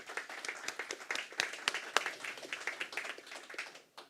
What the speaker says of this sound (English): I would say thanks to the panelists with an applause